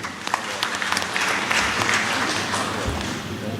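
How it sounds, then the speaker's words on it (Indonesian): Applause from an audience at a formal Indonesian event, steady dense clapping sustained throughout without a break. "Itulah tepuk tangan buat kita semua."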